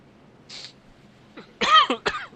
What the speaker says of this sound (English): I usually try to mute the mic when I'm about to cough.